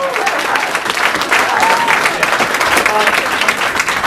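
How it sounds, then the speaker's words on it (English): A crowd at a political talk breaks into loud applause and cheering, a dense steady roar of clapping with occasional shouts and whistles throughout. "Loud cheering reactions, it's all good."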